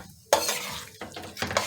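A spoon works blended spinach into masala in a pan, giving wet scraping and squelching strokes in three bursts, with a soft sizzle underneath.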